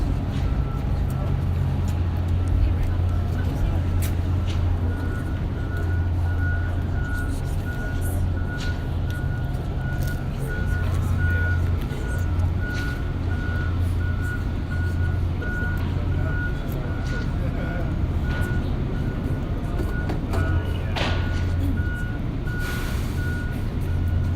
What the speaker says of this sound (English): In the meantime, we have trash trucks.